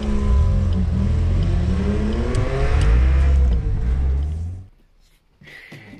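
A car imported from Japan, bright fluorescent yellow, revs its engine loudly from the cabin in a strong rising growl, then the roar cuts off sharply near the end, leaving a faint hum.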